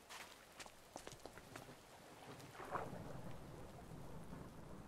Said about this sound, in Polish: Może chodźmy pod dach, żeby nie moknąć. Burza.